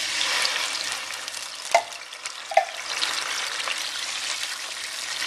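A 14.5-ounce can of diced tomatoes hits a pan of frying garlic over a high flame, giving a loud, continuous sizzle and hiss with a couple of brief splattering spikes.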